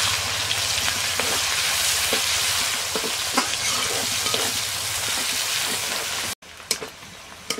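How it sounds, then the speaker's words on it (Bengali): Chopped onions fry in hot oil with cloves and cardamom, giving a dense continuous sizzle with occasional spatula scrapes up close; the frying cuts out abruptly near the end, then a few sharp knocks follow. "এবারে দিয়ে দেব পেঁয়াজ কুচি। পেঁয়াজটাকে আমি লাল করে নেব।"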